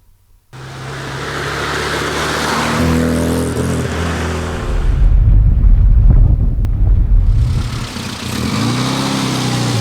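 A Classic Mini car on a test drive with newly fitted parts, its engine droning steadily under heavy wind buffeting, the engine note swelling louder midway and then settling. No voices.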